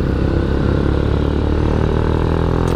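A Yamaha Byson motorcycle engine, freshly rebuilt, revs hard and loud close by, a dense, rough mechanical roar with clattering texture that holds steady throughout.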